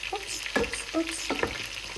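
Coconut sauce for a fish curry sizzles and bubbles in a pan, with a few stirring scrapes and clinks over a steady frying hiss.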